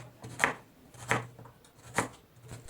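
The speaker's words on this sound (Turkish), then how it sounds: "Son olarak da aparat yardımıyla yuvarlak şekilde doğruyorum" A slicer gadget cuts carrots into rounds: four evenly spaced crisp cutting strokes, close and fairly quiet, with silence between them and no talking.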